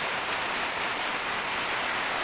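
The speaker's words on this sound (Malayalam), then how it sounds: "നല്ല ശക്തമായിട്ട് തന്നെയുള്ള മഴയാണ്." Heavy rain falls in a dense, continuous hiss, loud and unbroken, with no other sounds standing out.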